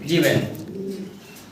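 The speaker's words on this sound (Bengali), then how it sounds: "আমরা আরও এক পেয়ার খুবই চমৎকার কবুতর দেখতে পারতেছি" Low pigeon cooing swells briefly and fades, mixed with other bird sounds and faint voices in the background.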